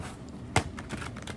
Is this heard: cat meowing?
no